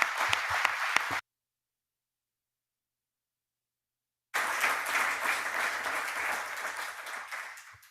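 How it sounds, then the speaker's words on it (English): Audience applause at a conference closing session, steady dense clapping that breaks off into silence for about three seconds and then resumes at full strength before easing slightly. "If you'd join me in giving them a round of applause"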